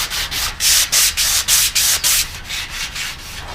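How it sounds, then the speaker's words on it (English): Sandpaper of 320 grit rubbing paint off a metal front grille of a 1973 Scout II, heard as about a dozen rhythmic back-and-forth scraping strokes, close and fairly loud, with no talk. "All we've been doing is we've been using our sandpaper."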